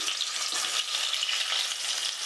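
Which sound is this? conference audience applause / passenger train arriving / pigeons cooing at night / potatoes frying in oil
potatoes frying in oil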